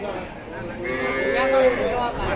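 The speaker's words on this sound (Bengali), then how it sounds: "এটা কিন্তু দেশি বকনা গরু" A young local breed heifer at a busy rural cattle market gives one long, loud, drawn-out moo close by, over a steady hum of crowd noise.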